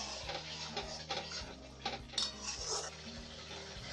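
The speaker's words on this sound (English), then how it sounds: "And slowly stir it." A spoon slowly stirring chicken gravy in a pan for chicken bharta, with repeated metallic scrapes and clinks against the pan over a few seconds, close and fairly quiet.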